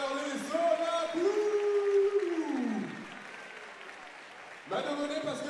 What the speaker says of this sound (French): Applaudissements pour nos super danseurs